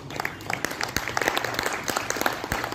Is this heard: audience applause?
yes